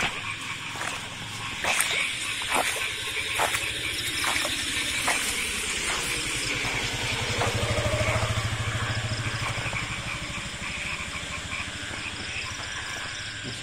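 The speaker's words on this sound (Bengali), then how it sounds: "একটা মোটর সাইকেল আইতেছে।" A motorcycle engine hums and grows louder as the bike approaches along a rain-flooded main road in rural Bangladesh, with water sloshing and repeated sharp clicks and squeaks over a steady outdoor background.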